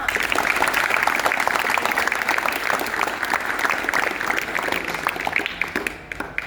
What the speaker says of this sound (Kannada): ಸಾರ್ವೆ ಜೋರ ಚಪ್ಪಾಳೆ ಹೊಡೆಯೋಣ.